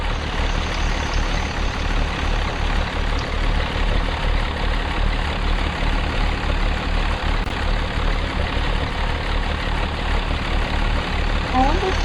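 A school bus engine idles at a stop, giving a steady low diesel rumble that stays even and unbroken throughout.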